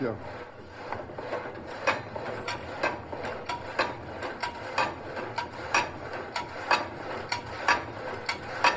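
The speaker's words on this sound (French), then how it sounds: "notre scie alternative qu'on appelle un châssis dans le Haut-Jura" A water-powered reciprocating frame saw runs with a steady rhythmic rasp, one stroke roughly every half second, cutting a wooden plank close by with a low machine hum.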